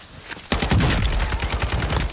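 Rapid pistol gunfire from Warzone 2 breaks in after a quiet half second, a loud, close string of sharp shots with a few fast echoing cracks and rattles throughout.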